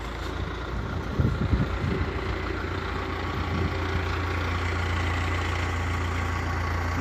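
An MTZ-82 tractor's diesel engine runs with a deep steady drone that builds slightly as it pulls away, with a few knocks and clunks early on and no talking.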